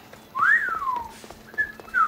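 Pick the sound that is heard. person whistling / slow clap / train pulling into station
person whistling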